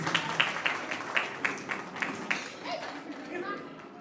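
Guests clap at a baby shower in rapid bursts, with overlapping claps fading toward the end and light chatter and voices underneath.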